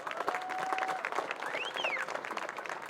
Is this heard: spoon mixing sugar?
no